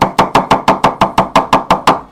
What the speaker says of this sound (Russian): Сминаем ее рукой и нарезаем очень мелко.